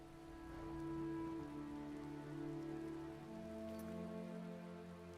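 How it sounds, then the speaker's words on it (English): Rain falling in the video game Skyrim, a soft, continuous patter heard under sustained game music that swells and fades. "The rain will not let up anytime soon."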